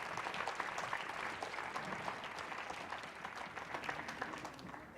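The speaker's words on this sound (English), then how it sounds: "A big round of applause." Applause from the audience at a national quiz final: a sustained, even patter of many hands clapping, fairly full and steady from start to finish without talk over it.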